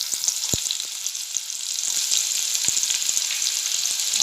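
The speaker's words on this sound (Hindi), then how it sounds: "अब हम इन मसालों को हल्की आंच पर थोड़ा तेल में भूनेंगे।" Garlic and ginger fry in a little oil over a low flame, giving a steady near sizzle with scattered light spatters and a couple of sharper utensil taps.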